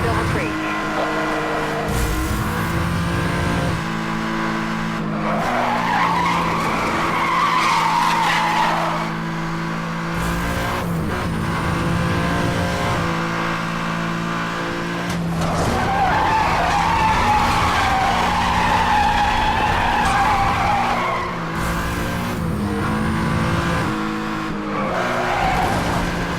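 A BMW in the racing game Need for Speed Hot Pursuit skids through repeated bursts of squealing tires over a steady engine drone, while someone talks throughout.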